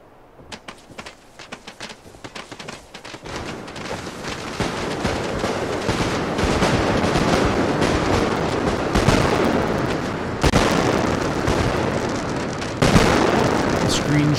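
Booming cannon fire in Fallout 4 erupts in a rapid barrage, the blasts building into a dense, continuous roar of explosions that grows louder and stays heavy.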